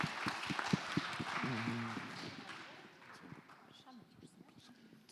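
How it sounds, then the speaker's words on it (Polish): Scattered applause from an audience at a youth leaders' forum panel, brief and fading out, with a voice speaking over it. "Brawa!"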